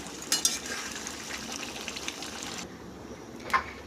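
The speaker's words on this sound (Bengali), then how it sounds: "চারদিকটা তরকারি সব জায়গায় ভালো করে নেড়ে নিলাম।" Vegetable curry being stirred in a frying pan, a steady low sizzle with a few scraping clicks of the spoon, close and fairly quiet, then a softer stretch with one more scrape near the end.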